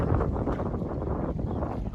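Strong sea wind buffets the microphone in a dense, continuous roar during rain, with a low rumble from water and waves beneath it; close, loud and steady, with no talking.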